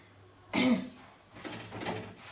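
A woman coughs once, loudly and up close, then gives a softer, throaty second cough a moment later, with no talking.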